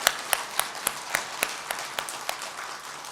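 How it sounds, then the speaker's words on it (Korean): Church congregation applauding together during a Sunday service, a steady run of about a dozen sharp clap bursts over a soft, continuous patter of many hands in a reverberant hall. "다 같이 감사의 박수를"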